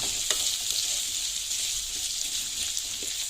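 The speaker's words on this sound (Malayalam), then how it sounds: "ബെൻസി നന്നായിട്ടൊന്ന് ഇളക്ക്" Tomatoes being stirred and fried for a cauliflower and potato curry, a steady loud sizzle in the pan with light scraping stir sounds throughout, no talking.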